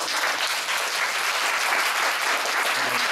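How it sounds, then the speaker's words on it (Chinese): An audience at a public discussion event gives dense, continuous applause, loud and even throughout with no voices on top. "但是我们还是非常热烈的掌声"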